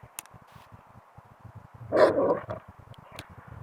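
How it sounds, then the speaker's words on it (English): Dogs barking indoors, a loud cluster of barks near the middle after scattered faint clicks and yips, fairly close, without talking. "Finish this up, these dogs are getting loud."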